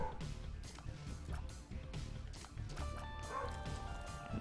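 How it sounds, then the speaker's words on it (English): A dog yips and whimpers in the background, sounding upset. The barks come as short repeated bursts, faint and distant, under game music and other sounds. "That dog behind me is really upset"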